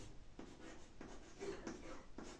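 Pen strokes scratching across paper as a full name is handwritten in Hindi-medium notes, steady close rubbing strokes in short bursts with brief pauses, no talk.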